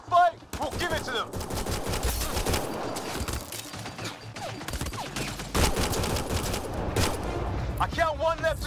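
Gunfire erupts in the video game Mass Effect: Andromeda, rapid bursts and single shots crackling through a busy firefight, with voices shouting over the shooting and bright electronic whines at the start and end.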